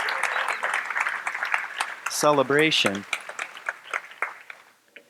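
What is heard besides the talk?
audience clapping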